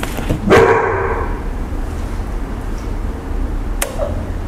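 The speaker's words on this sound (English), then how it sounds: "I think that was a dog barking." A single dog bark rings out early, sharp and moderately near, followed by quiet background hum and a faint second yelp later on.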